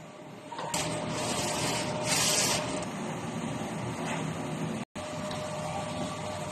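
A DTF printer runs its nozzle test, giving a steady mechanical whir with a bright rising swish partway through and a brief dropout near the end. No one speaks.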